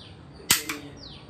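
Two sharp Diwali firecracker bursts crack in quick succession, the first louder, the second a lighter pop a fraction of a second later, against a quiet background.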